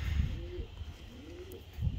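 Racing pigeons at a loft coo in two low, drawn-out calls, fairly close, over a soft steady outdoor background with no talking.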